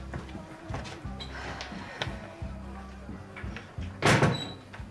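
An interior door pushed shut at about four seconds gives one firm thud, close by in a room with low background noise and faint shuffling.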